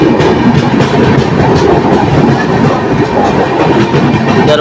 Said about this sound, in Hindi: निकल चुकी अपनी दरभंगा अहमदाबाद साबरमती एक्सप्रेस हमारी ट्रेन को ओवरटेक करके।